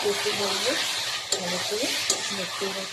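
Poppy seed paste sizzles and fries softly in a pan for a Bengali rui fish curry with potato and cauliflower, with steady crackling broken by a few sharp scraping stirs and a faint voice in the background.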